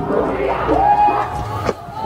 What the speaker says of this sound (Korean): 다시 한번 큰 박수로 모시겠습니다.